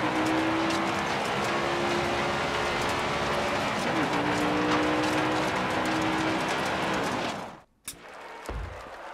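A stock car in NASCAR Heat 5 does a victory burnout at Daytona, its engine roaring in a sustained, loud drone that cuts off abruptly near the end, with a commentator's voice running underneath.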